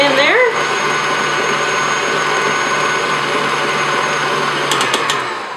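An electric mixer whirs steadily through chocolate cake batter, close and fairly loud, with a brief voice-like warble at the start and a few clicks near the end.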